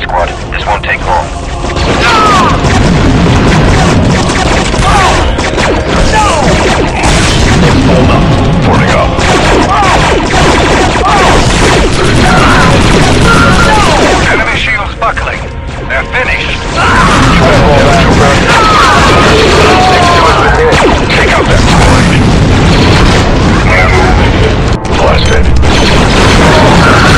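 Dense, continuous gunfire and explosions from a battle in the game Star Wars Republic Commando, loud rattling shots and booms layered with mechanical clatter, with voices speaking over the din throughout.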